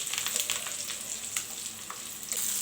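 Mustard-seed tempering for gongura chutney crackles and sizzles in hot oil up close, a steady frying hiss with scattered sharp pops and occasional stirring as turmeric is mixed in.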